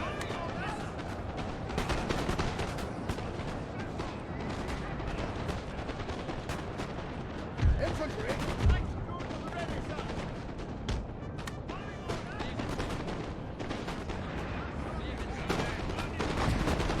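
Cannon and musket fire rumble through a Napoleon: Total War battle, a dense continuous din of distant volleys with a couple of heavier booms standing out midway, while a voice talks over the noise.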